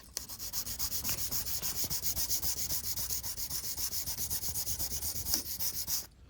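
Rhythmic hand sanding on a Damascus steel knife blade, quick even back-and-forth rasping strokes repeating steadily for several seconds before stopping, close and fairly loud.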